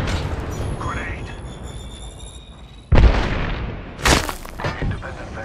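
Apex Legends grenade explosion: a sudden heavy boom midway, then a second burst with debris and rumble, over busy game ambience and faint background sounds.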